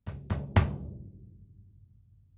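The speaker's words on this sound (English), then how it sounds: "Sounds nice and boomy, like a kick drum should." A Gretsch Energy kick drum is struck three times in quick succession, each a deep, boomy thud, the last hit ringing longest before it decays.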